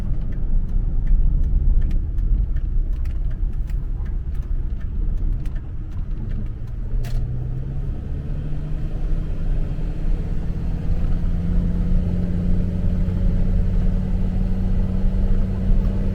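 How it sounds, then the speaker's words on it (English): Inside a Ford F-550 truck hauling a loaded trailer, the engine drones in a steady low rumble with road noise, a few light rattles early on, and a rising tone as it pulls under load. "But the old truck's pulling good."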